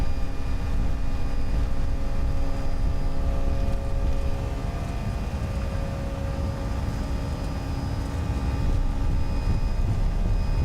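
Simulated Jardesign A320 engines hold takeoff power in X-Plane 11 for a departure from Birmingham, giving a steady, sustained roar with faint whining tones and no talk.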